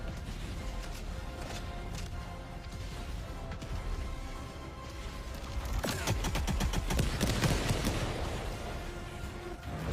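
Wasp Launcher support weapon firing in the video game Helldivers 2, a continuous barrage of rapid, overlapping blasts and crashing impacts that grows louder and denser in the second half, with no talking.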